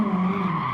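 Tires squealing steadily in a Gran Turismo 7 drift, a sustained loud screech layered over a droning engine note with no break through the slide.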